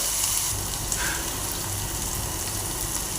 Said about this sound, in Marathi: याच्यामध्ये अर्धा चमचा हळद घालून घेते आणि सगळं चांगलं असं भाजून घेणार आहे